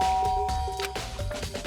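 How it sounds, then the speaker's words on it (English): A doorbell chimes in the video game Danganronpa Trigger Happy Havoc, a clear electronic ding-dong tone ringing twice over soft game background music. "I pressed the doorbell."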